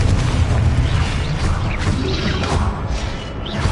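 A Confringo fire spell erupts in Hogwarts Legacy, a dense, booming blast with crackling bursts layered over a heavy rumble throughout.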